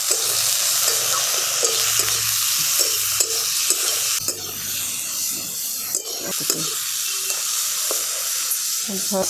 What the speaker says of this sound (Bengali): এরপরে ঢ্যাঁড়সটাকে আমি একটু হালকা করে ভেজে নেব